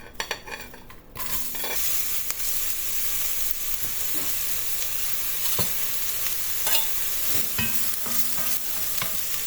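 Onions sizzle steadily in a pan of olive oil while being stirred, with scattered scraping clicks from the utensil cutting through the constant close, hissing fry.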